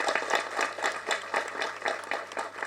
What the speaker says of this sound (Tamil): அவருக்கு ஒரு மிக பெரிய கைத்தட்டலை கொடுக்கணும்.